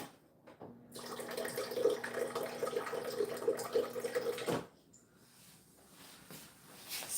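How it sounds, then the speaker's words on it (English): Water pours in a steady stream for about four seconds into a container for a protein drink, then stops, leaving quiet room sound with small clinks. "I'm going to put about 3 ounces of water"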